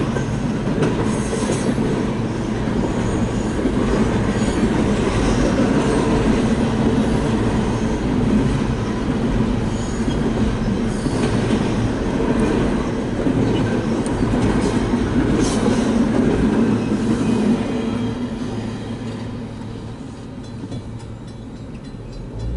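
A model train rolls along a layout at a model railroad show, picking up speed on a long straightaway; a continuous, loud rumble of wheels and clatter persists throughout before easing slightly near the end.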